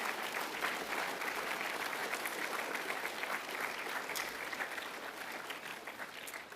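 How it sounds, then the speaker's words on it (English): Sustained applause from a school assembly audience welcoming new students, with steady dense clapping from many hands throughout and a slight fade toward the end. "I would like you to offer a round of applause as welcome to all of those new Nudgy men"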